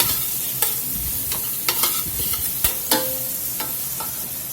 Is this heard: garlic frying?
yes